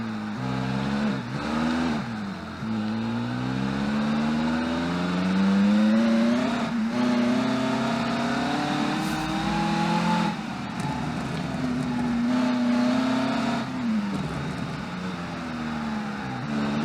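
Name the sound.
supercar engine driving on track in video game Automation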